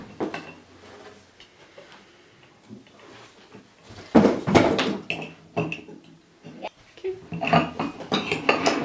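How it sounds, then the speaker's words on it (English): Slime made from laundry starch being stirred in a bowl, a run of wet clinks and scraping taps that grows louder and busier toward the end, with faint talk in the background. "And then you keep mixing until it turns into slime."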